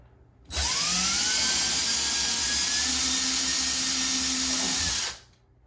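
A power drill whirs steadily for about four and a half seconds, its pitch sliding as it bores a hole in a cabinet to mount a toilet paper holder, then winds down and stops.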